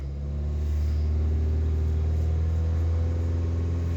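A car engine held at a raised idle around 3000 RPM during a diagnostics check, a loud, steady, close droning hum with a deep rumble that rises slightly at the start and holds evenly throughout.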